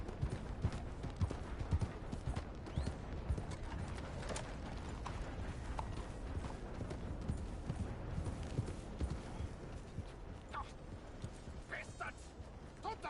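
Steady clip-clop of horse hooves in Red Dead Redemption 2 runs through, mixed with mechanical clatter and a faint, low background hum, quiet overall.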